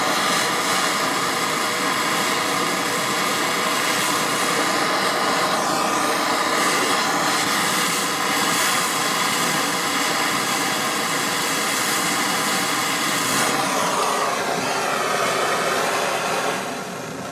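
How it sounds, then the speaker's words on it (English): A gas torch roars steadily and loudly for the whole stretch as it heats a rusty, corroded, stuck bolt and nut. There is a continuous hissing blast with slight shifts in tone and no talk. "And now I heat really this bolt, that bolt area."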